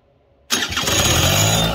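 A Suzuki LT80 ATV engine fires up after a short silence and settles into a loud, steady running drone with a rough mechanical rattle, close by.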